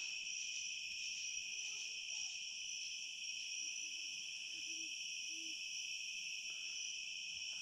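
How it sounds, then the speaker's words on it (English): Soft owl hoots sound faintly in the distance against loud, steady cricket chirping at night in an old cemetery. "I hear a hoot owl and talking."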